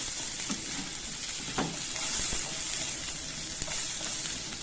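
Large pieces of capsicum sautéing in hot oil for restaurant-style chili paneer, a steady bright sizzle with occasional soft stirring knocks throughout, and no voices.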